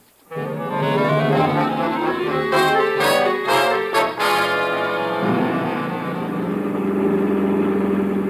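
A car engine in an old-time radio drama starts up and settles into a loud, steady idle with rich low harmonics and a brief revving swell midway, heard up close with no voices over it.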